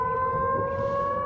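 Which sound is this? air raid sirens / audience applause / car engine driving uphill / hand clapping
air raid sirens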